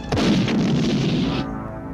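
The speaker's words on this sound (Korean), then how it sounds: "남쪽 친구는 폭발." An explosion in a brutal martial-arts fight film hits as one loud, sudden blast, followed by a dense roaring rumble that fades after about a second and a half.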